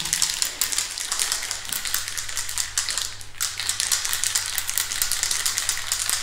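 A container of Raptor 2K coating with hardener being shaken to mix, producing a rapid, continuous rattling and clattering close by, with no talk.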